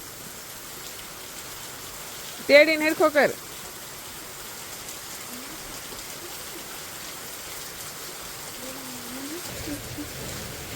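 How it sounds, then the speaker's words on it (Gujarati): Heavy rain falls steadily at moderate level as an even wash throughout, with a brief burst of speech partway through. "એટલો વરસાદ શરૂ થયો છે અત્યારે"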